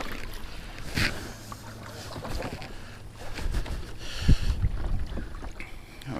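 A motorboat cruises on a windy lake while bass fishing, its engine a low, steady drone under wind noise and water splashing against the hull.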